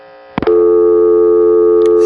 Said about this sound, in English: a burst of dial tone at the end of the digit